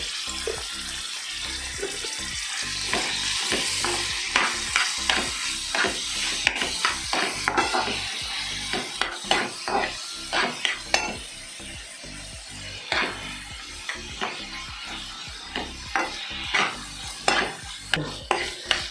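Tomato, ginger and garlic fry in a pan with a continuous sizzle, while a spoon scrapes and stirs in a brisk, repeated rhythm that grows more pronounced toward the end.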